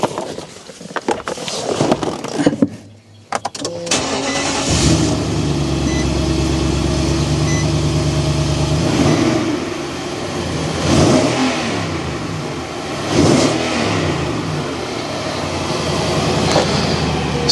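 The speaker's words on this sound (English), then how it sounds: "So you can hear there's a nice strong crank." A Nissan Titan pickup engine cranks over with a strong, rapid starter churn for a few seconds, then catches and runs at a loud, steady idle with slight rises in revs, close up.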